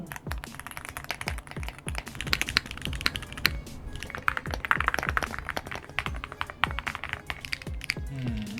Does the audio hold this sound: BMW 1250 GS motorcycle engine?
no